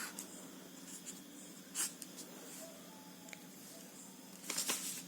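Hand writing on paper, faint scratchy pen strokes with a few brief louder rustles, quiet and close, with no speech.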